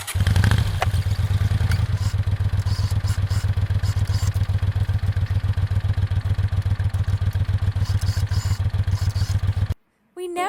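A sewing machine stitches folded fabric strips cut from a bedspread into a dress strap, a close, steady, rapid mechanical chatter that runs for nearly ten seconds before stopping abruptly.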